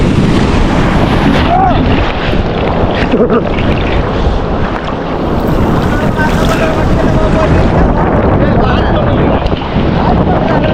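Sea waves and strong wind at Mirissa Beach, Sri Lanka, roaring continuously and loud, with heavy wind buffeting the microphone throughout and a voice talking intermittently underneath.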